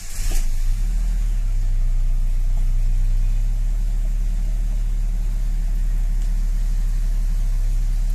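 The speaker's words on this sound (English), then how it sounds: "Let's start the truck and see what happens." Ford truck engine, a Ranger, Explorer or F150, turning over and settling into a steady low idle, loud and close throughout with a short burst at the start.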